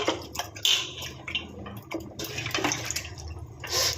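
Fish pieces being rinsed by hand in water for a fish curry, with splashing and running water in bursts of sloshing and brief trickles, close and fairly loud, no talking.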